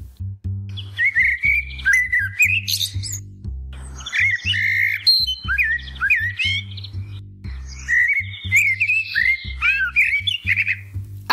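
A blackbird sings fluting, warbling phrases in bursts with short pauses, clear and close, over a steady low musical drone.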